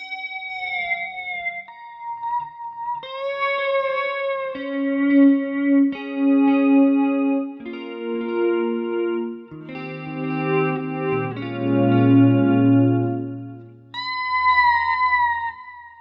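Clean electric guitar plays a slow melodic line with notes ringing into repeating echoes, chorused and shimmering, ending on a higher sustained phrase.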